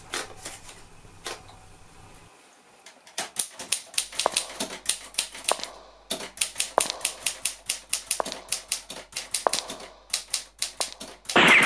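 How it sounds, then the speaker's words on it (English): Typing on an Imperial Good Companion manual typewriter, close and crisp: irregular runs of sharp key strikes in quick bursts with short pauses and a soft carriage sound, no voices. "so now let's get on with a bit of typing."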